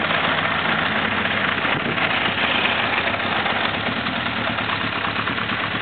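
A 1982 Honda CB900F motorcycle engine idles steadily after a cold start, a close, loud, even mechanical rumble throughout with no talk.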